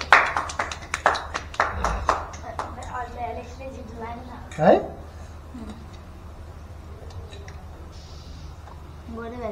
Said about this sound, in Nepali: यहाँ ताली बजाउनु तिमीहरू है